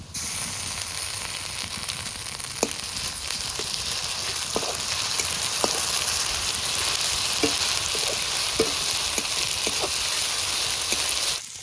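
Lightly fried fish sizzles steadily in hot oil with ginger-garlic paste and chilli paste, a loud, continuous crackling hiss with scattered small pops and scrapes throughout, no voices.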